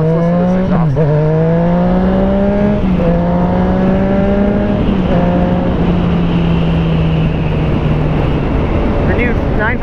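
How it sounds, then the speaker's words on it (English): A Yamaha FZ-09 motorcycle with an Arrow exhaust, dB killer removed, drones at a steady, slowly sagging engine pitch, heard through heavy wind noise while someone talks over it. "oh, let's listen to this exhaust."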